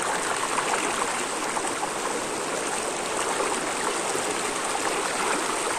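A mountain stream flows down from high old-growth forest, its water rushing in a dense, continuous, fairly loud wash that stays steady throughout with no voices.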